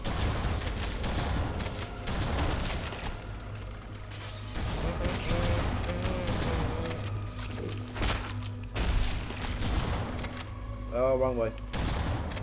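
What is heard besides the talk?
gunfire in the video game Halo CE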